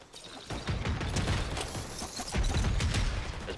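Rapid sniper and rifle gunfire during a Fortnite match, a dense burst of overlapping shots and booms running nearly continuously for a few seconds, loud and with no speech.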